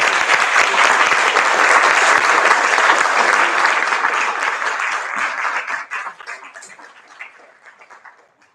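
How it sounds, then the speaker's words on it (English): Applause from the audience at a school district board meeting, a full wash of clapping that holds strong for several seconds, then thins and fades out to quiet. "Yes, please give me a round of applause."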